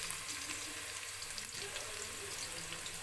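Onions fry in a pan at home as tomato goes in, giving a faint, steady sizzle with soft crackle and a few small clinks. It is quiet throughout, with no talk.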